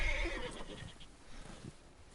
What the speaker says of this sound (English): There was a little rope my horse tripped over.